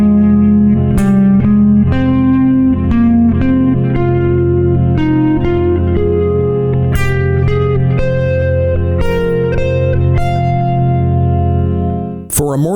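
Electric guitar with effects playing a phrase of sustained notes that step steadily upward, then sharper punctuating notes across the strings in position, loud and continuous with ringing reverb tails.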